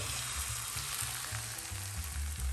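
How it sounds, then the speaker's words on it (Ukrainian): Steady, close sizzling of liver pancake batter frying in a hot pan, a continuous crackling hiss with no voices. "розподіляємо по всій пательні наш млинець і смажимо"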